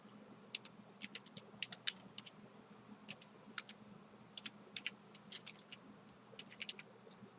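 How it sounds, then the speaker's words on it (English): Faint, irregular clicking of keys on a computer keyboard as an address list is typed, quick bursts of taps with short pauses, over a soft steady hum. "we are actually typing the address list"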